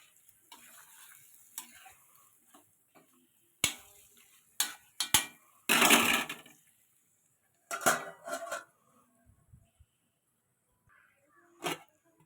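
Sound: stirring fish curry in a pot

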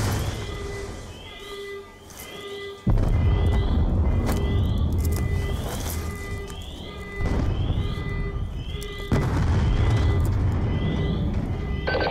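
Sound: explosions in Call of Duty Black Ops 2 video game

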